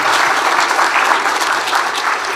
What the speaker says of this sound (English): I think a special round of applause for Francis.